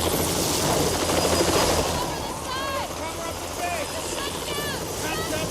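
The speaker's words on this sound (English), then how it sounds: "the arrival of that helicopter at that particular point" Loud helicopter rotor thumping and engine whine fill a scene from Jurassic Park, with voices and faint sliding whistles layered under the steady roar.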